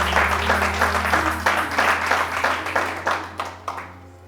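A church congregation applauds and cheers together during a worship service, dense clapping rising and falling in waves over a low steady hum, with no speech heard.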